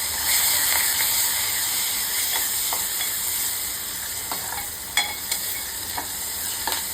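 Garlic sizzles steadily in hot oil with curry leaves, kokum and chilli for a Konkani kuldachi pitti, with a constant close hiss broken by occasional sharp clicks of a spoon against the pan.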